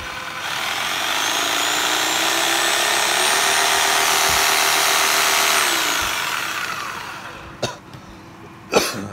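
An old, cheap cordless drill whirs steadily at its slow first-gear setting, a sustained motor tone that later winds down, followed by a couple of sharp knocks near the end.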